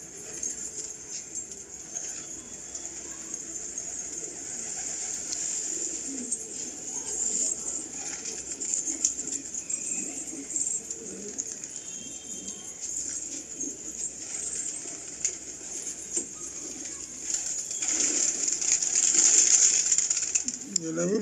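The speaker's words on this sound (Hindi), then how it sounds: "पटियाला का कबूतर जो होता है ना बुलेट है" Patiala pigeons coo and flap close by in a steady stream of bird sound, with someone talking over them throughout and a brief rise in flutter near the end.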